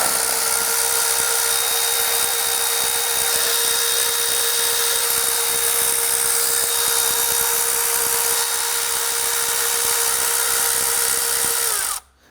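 A power tool whirs steadily to remove 8mm intake bolts on a 2010-2019 Ford Taurus with a 3.5L V6, giving a continuous high whine with a faint rattle that runs for about twelve seconds before cutting off abruptly.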